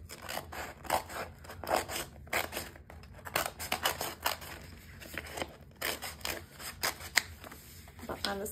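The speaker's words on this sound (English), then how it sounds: "I am now going to cut that out." Scissors snip through fabric or stabilizer to cut out an embroidery name template, with a steady run of close, crisp cuts and rustling paper or cloth throughout.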